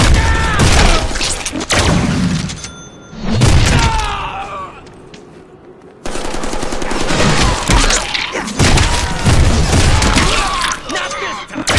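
Gunfire erupts in the Deadpool video game on Xbox 360, in Magneto's prison level: loud rapid fusillades and booms, a brief quieter lull midway, then dense shooting resumes.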